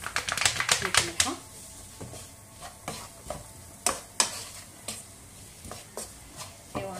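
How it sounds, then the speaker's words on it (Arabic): Chopped onion frying in a pan for a kofta and mashed potato dish, with a steady sizzle and sharp clattering scrapes from stirring, denser at first and then spaced out. "هنا غنخلي البصله تطيح مزيان"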